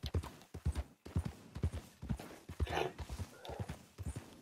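Horse hooves clip-clop in a steady, repeating rhythm in the Red Dead Online video game, close and fairly loud, with a brief snort or whinny-like sound partway through and no talk over it.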